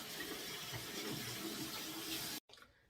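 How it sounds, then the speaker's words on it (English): Hands are rinsed under a running tap, a steady close splash of water that cuts off abruptly near the end, leaving a short quieter tail of drips. "Let me rinse my hands."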